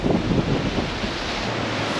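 Ocean surf keeps breaking against a coastal walkway near Makapu'u Lighthouse, a steady rushing wash mixed with heavy wind buffeting the microphone, continuous and fairly loud with no voices.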